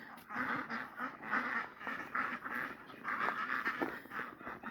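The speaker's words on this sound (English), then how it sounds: "Run, duck, run." Ducks quack over and over through a snowstorm, a steady run of loud, close, overlapping nasal calls with no break, and faint voices at times underneath.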